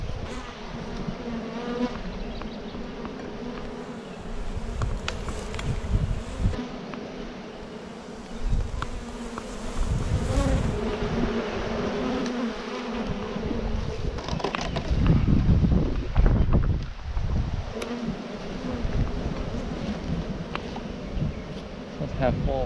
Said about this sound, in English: there's a bee on the lens.